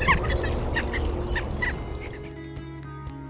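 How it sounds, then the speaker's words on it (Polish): A ruff gives several nasal, honking bird calls over a dense, noisy outdoor background. The calls thin out into a low, steady hum with faint clicks. "Batalion."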